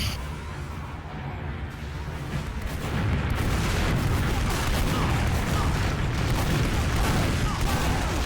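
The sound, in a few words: gunfire from pre-game deathmatch in a shooter video game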